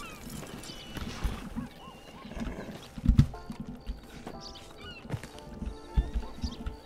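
Horse hooves clop in uneven bursts, with whinnies and snorts from a horse in a stable in Red Dead Redemption 2, fairly close and set against quiet game ambience.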